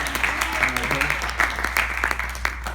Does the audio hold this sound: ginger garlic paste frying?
no